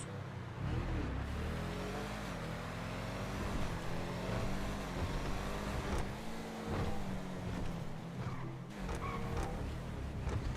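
A BMW M2 engine in GTA 5 drones steadily at speed, its pitch rising and falling with gear changes and throttle, loud and close for the whole stretch.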